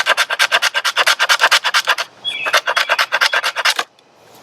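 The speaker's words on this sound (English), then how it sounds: "I'm just going to carve a few curls off of there." An Old Timer Mini Pro Hunter knife scrapes curls off fatwood in rapid, evenly spaced rasping strokes, close and loud, with a short pause before a second run of strokes.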